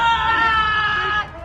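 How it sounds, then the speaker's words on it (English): A woman screams continuously in a high, strained wail inside a store, loud and unbroken for over a second amid background commotion. "the woman began screaming uncontrollably"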